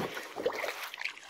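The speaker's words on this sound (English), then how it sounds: "I am kayaking" Pelican Pursuit 80X kayak paddled across water at midday, giving a brief, soft wash of splashing and trickling water close by, with no voices.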